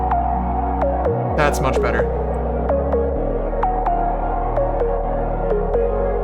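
A Serum synth pluck built from a sine wave, with a quick pitch drop at the start of each note, repeats in an even rhythmic pattern over a sustained low tone, and a brief voice comments partway through.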